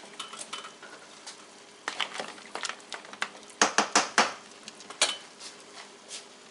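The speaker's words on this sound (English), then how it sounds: "Now let's take these big stone crab claws, get them in there." Big stone crab claws go into a seafood boil pot, clattering and knocking in quick irregular bursts, with a few louder hard clacks partway through and no talking.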